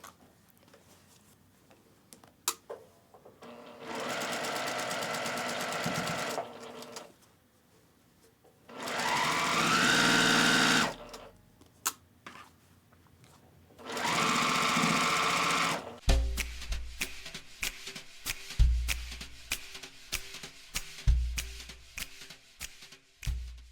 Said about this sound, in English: now we'll go to the sewing machine and use a 1/4" seam and sew down the row